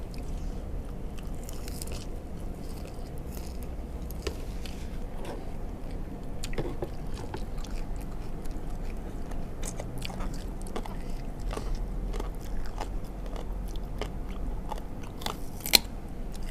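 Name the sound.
eating spicy som tam papaya salad with squid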